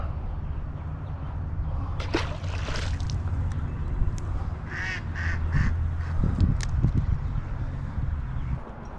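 A duck at a golf course gives a short run of nasal quacks close by, repeated in quick bursts over a steady outdoor rumble, with a few light knocks and splashes.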